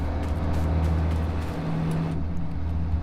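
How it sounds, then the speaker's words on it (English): A truck engine labors with a heavy, steady low drone while powering grain unloading during a wheat harvest, continuous and close with no talk over it. "You can hear it kind of pulling the heck out of my engine."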